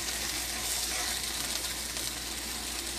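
Wild mushroom taco filling frying in a pan, a continuous bright sizzle with a steady hiss and no pauses, heard close and alone.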